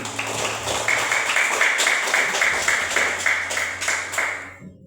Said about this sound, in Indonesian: Tepuk tangan untuk Mario